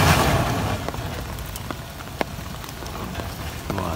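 Rain falls during an off-road outing as a steady, moderately close patter with scattered sharper drop clicks, and no one speaks.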